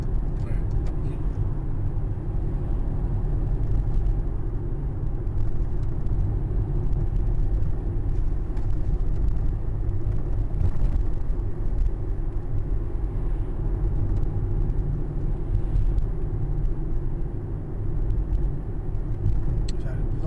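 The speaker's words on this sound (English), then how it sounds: "You start with braking and maybe drop to second gear" A city bus slows in traffic, a continuous heavy low rumble of engine and road noise with braking, close and steady throughout, while a driver speaks over it.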